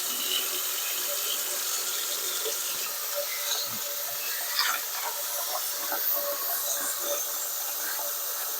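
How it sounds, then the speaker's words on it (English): White rice being rinsed under running water, a steady close hiss of flowing water with faint splashes and grain movement, no voices. "Just rinsing it just a few times. Get up as much starch as you can"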